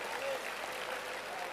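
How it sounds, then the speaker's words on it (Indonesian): Applause from a church audience forms a soft, continuous patter at a modest distance, with faint crowd murmur mixed underneath. "Tepuk tangan untuk ibu."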